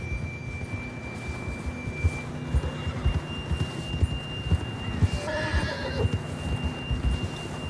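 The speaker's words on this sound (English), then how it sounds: "John was riding that horse when we left Blackwater." A horse in the video game Red Dead Redemption 2 whinnies with a rising, wavering neigh over steady clip-clopping hooves and a low ambient hum, fairly close.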